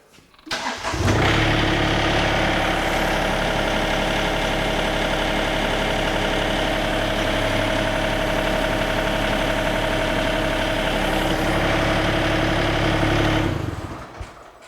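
Toro Dingo TX 1300 compact utility loader engine starting and idling, a loud, steady close rumble that holds evenly for about twelve seconds before cutting off, no talking.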